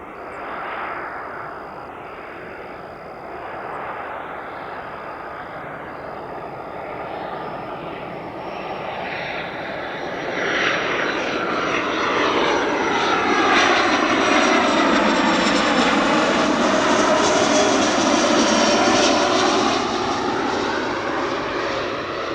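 A Flexjet business jet comes in to land on runway 8 right at Spirit of St. Louis Airport, its engine whine swelling from a distant hiss into a loud, close roar that sweeps past and holds steady near the end.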